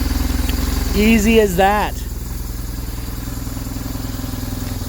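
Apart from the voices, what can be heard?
1997 BMW R1100 touring motorcycle engine starting and idling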